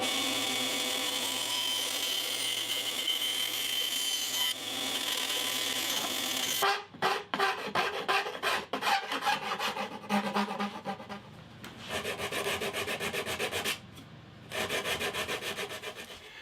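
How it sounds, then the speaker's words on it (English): Steady rubbing rasp of sanding on wood for a Telecaster guitar body built from scrap offcuts, then quicker back-and-forth scrubbing strokes with brief pauses between them, close up. "probably do a bit of sanding"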